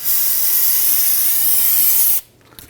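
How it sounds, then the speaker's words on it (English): Solvent sprayed from an aerosol can to clean brake fluid off a front brake caliper on a 2010-2019 Ford Taurus, one continuous close, loud hiss lasting about two seconds before cutting off abruptly into near silence. "go ahead and use your spray solvent"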